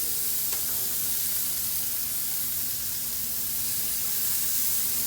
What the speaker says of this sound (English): hear it searing